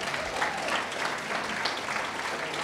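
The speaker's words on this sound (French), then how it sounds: "On peut les applaudir." An awards gala audience applauds continuously, a thick wash of many hands clapping at even volume from start to finish, with a little crowd noise mixed in.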